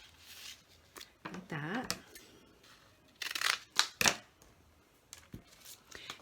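Scissors snip through packing tape in several short, crisp bursts close by while making recycled cereal box drawers, with a brief spoken remark between cuts.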